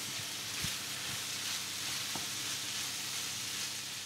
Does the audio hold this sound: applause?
no